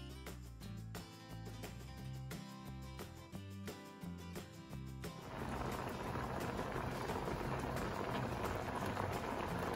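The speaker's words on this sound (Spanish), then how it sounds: "esta salsa de espinaca o crema de espinaca para esta deliciosa pasta ya está hirviendo" Spinach cream sauce for pasta bubbles in a pan on a low flame, a steady fizzing, popping simmer that takes over midway after a stretch of background music.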